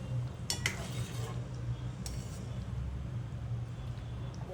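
Paneer pieces are stirred with butter in a pan, with a few sharp clinks of a utensil against metal over a low, steady background hum.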